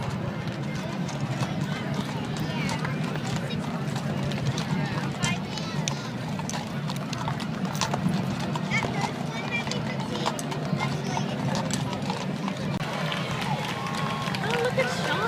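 Hooves of a mounted academy color guard clatter in a steady trot along a parade street at the Indianapolis 500 Parade, backed by crowd noise, scattered claps and a commentator talking throughout.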